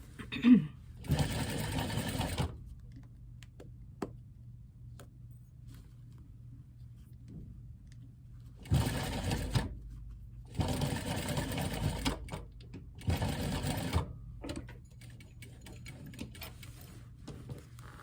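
A sewing machine stitches a gusset in bursts, its fast mechanical whir starting and stopping several times with quiet pauses between runs, close and clear.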